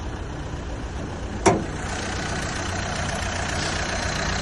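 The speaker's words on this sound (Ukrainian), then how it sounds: "робота двигуна рівна" A 2013 Renault Kangoo Maxi with a 1.5 diesel engine idles under the open hood, a steady even rumble with one brief sharp knock partway through and no talk.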